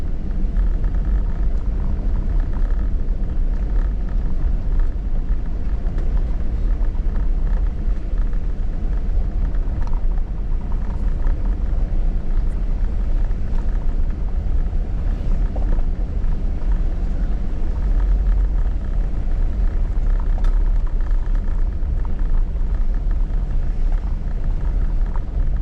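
A Jeep driving off-road through the Tionesta Scenic Area forest, a steady loud engine and road rumble heard from inside the vehicle, continuous with minor bumps and rattles.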